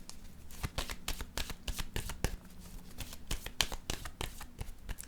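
Tarot cards riffle and slide together as a deck is shuffled and a card is drawn, a close, quick run of crisp papery flicks with brief pauses and no talking.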